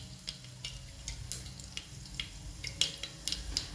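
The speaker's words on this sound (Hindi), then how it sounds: "और पचफोरन को पहले अच्छी तरह से चटकने देते हैं" Panch phoron spices and a bay leaf crackle and pop in hot oil while cooking a jackfruit curry, with scattered sharp snaps over a low steady sizzle.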